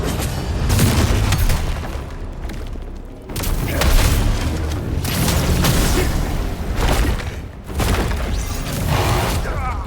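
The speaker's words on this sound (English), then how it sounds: "Firing his base cannon, he really is." A boss fires a cannon in the action game The First Berserker: Khazan, loud booming blasts arriving in several heavy bursts with brief lulls between them, mixed with crashing impact noise.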